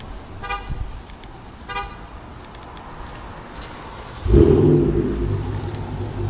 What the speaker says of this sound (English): Start the car up. Warm start.